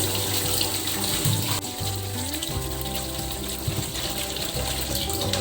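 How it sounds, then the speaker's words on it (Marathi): Steady running water from a tap splashes continuously over ginger being rinsed by hand, close by, with no talking. "इथे मी अन्न घेतलेलं आहे तर स्वच्छ पाण्याने धुवून घ्यायचं आहे"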